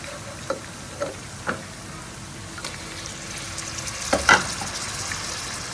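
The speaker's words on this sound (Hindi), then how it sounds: "अभी हमारा ये जो प्याज है थोड़ा ब्राउन हो गया, साथ साथ हमारे जो मीट बॉल्स हैं वो भी ब्राउन हो रहे हैं।" Beef meatballs and onions brown in a pan with a soft, continuous sizzle, broken by scattered light crackles and spits that cluster near the end.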